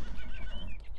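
A horse neighs in Farming Simulator, a single whinny lasting about a second, close and loud over a low hum of game ambience.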